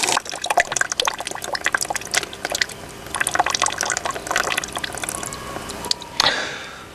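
Water runs from a static caravan tap being drained, a fairly close splashing, dripping flow with uneven spurts and a sharper gush near the end, with no talk over it.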